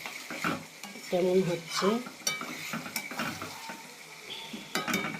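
Potatoes being sautéed in oil in a pan for an egg and soybean curry, with scraping stirs and clinks over a low sizzle; a voice speaks briefly partway through.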